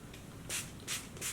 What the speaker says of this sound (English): This is how it sprays. You see, it's a light mist spray